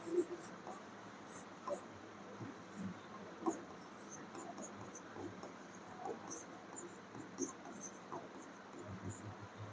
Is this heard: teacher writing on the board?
yes